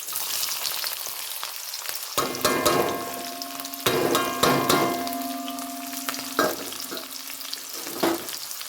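Small shallots fry in oil for a Kerala beef curry, with a steady close sizzle and repeated scraping, stirring knocks against the pan, with no talking.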